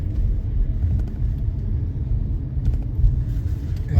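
A natural gas garbage truck engine rumbles steadily and loudly close by, a continuous low drone with no pauses.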